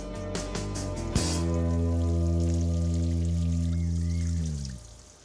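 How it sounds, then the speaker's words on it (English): Nematode mixture poured from a watering can onto garden soil, a steady stream of water splashing for about four seconds before tapering off as the pour ends. "Mix the contents of the packet with water as instructed and pour onto the soil."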